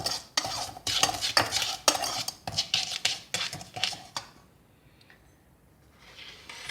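Flour mixture for chocolate sauce being stirred in a pot, quick repeated scraping strokes of a spoon against the pan for about four seconds, close and fairly loud, then near silence with no talking.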